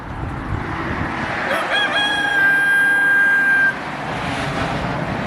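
A rooster crows once in a farmyard with chickens, a loud drawn-out call rising and holding for a couple of seconds over a constant background of wind and distant traffic hum.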